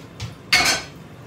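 A metal frying pan clanks briefly twice on a stovetop as it is set down and handled, being readied to get hot for fried corn; a soft knock comes first, then a brighter, longer clatter, with no talking.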